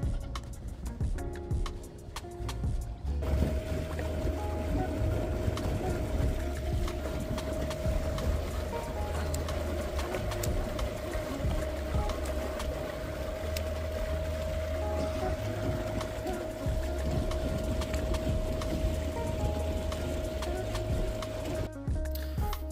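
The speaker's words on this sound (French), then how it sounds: "Une fois que le moteur est enclenché" A Garmin Force electric trolling motor runs steadily on a boat, giving a continuous hum with a sustained tone that starts abruptly and holds for about twenty seconds before cutting off.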